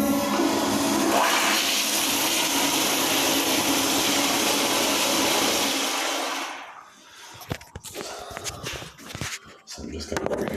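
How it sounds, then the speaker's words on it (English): A toilet flushes close by with a loud, sustained rush of water for about six seconds, then cuts off into quieter gurgles, clicks and refill sounds. "I'll just flush it."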